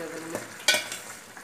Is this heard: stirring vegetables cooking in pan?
yes